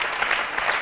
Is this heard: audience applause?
yes